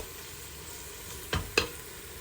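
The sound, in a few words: meat with spices searing in a pan over low heat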